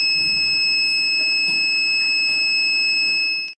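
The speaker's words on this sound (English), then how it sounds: "the meter will send out an alarm with a beep sound" A conductivity meter, the Aster CT-650, sounds its alarm as a loud continuous high-pitched electronic tone that holds steady alone and then cuts off abruptly.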